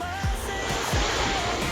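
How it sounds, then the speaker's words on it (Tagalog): Sea waves at a beach in Lobo, Batangas, making a steady wash of surf with a few louder swells rolling in. "Ayan, yung dagat lang siya mga idol."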